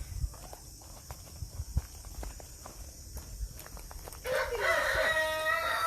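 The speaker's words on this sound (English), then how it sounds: "So Skokie, an important thing that we do is when we can pair a rooster up with a group of hens" A rooster crows near the end, a loud rising call at close range, after several seconds of scuffing footsteps and light knocks in a chicken run.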